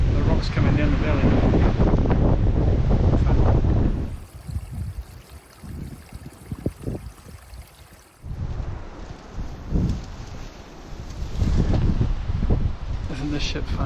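Strong gusts roar through a river valley and drive blowing sand against the microphone. The buffeting is heavy and loud, eases to a quieter patch midway, then comes back in force.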